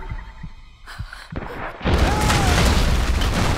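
A grenade launcher explosion in the Tomb Raider video game: a heavy, loud boom that rolls into a sustained rumble and lingers to the end, after a few quieter thumps.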